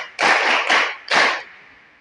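Audience applause for Yoweri Kaguta Museveni at an industrial training event, three short loud bursts of clapping that fade out, with no talking.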